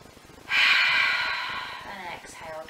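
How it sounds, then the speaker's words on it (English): A single deep breath drawn in through the nose during a guided breathing exercise, a clear close airy inhale lasting over a second before tapering off, with a softer breath following. "We're going to inhale through the nose and exhale out through the mouth."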